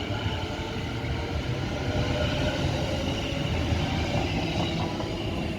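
A train departs Bletchley station on its service to Euston, giving a loud, continuous rumble of wheels and carriages close by that holds steady throughout with no talking.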